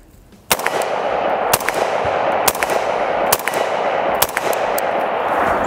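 An AR-15 rifle fitted with a heavy 6.8-ounce H4 buffer fires six loud, sharp shots at irregular intervals, each ringing out over a steady background roar, with no talking.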